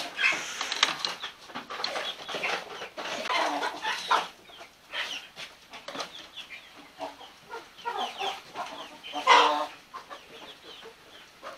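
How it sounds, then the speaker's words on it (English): Young chickens cheep and cluck in bursts while being caught and moved, close and fairly loud, with scuffling and rustling between the calls. "Right, now we need to catch all the chicks and stick them in."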